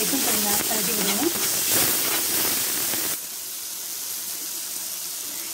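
Chili powder frying with cooked tomatoes in a pan for saalna, a steady close sizzle and hiss with stirring scrapes, louder at first and then settling to a softer, even fizz.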